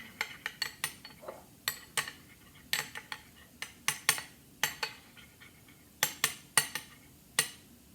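Fried rice tossed with sesame seeds in a dish gives a quick series of light clinks and scrapes from a utensil, close and irregular with short pauses.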